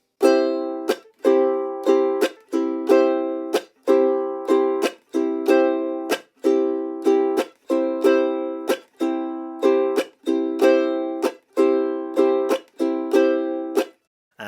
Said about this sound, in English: play the full island strum or calypso strum with chucks or chunks on beats 2 and 4